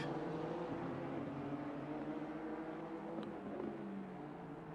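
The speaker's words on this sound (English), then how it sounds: "Listen to that engine out off that Jag." A Jaguar race car engine roars steadily in a racing video game at the Kyalami circuit, a continuous droning tone with layered harmonics that holds at a fairly even level throughout, with no voices.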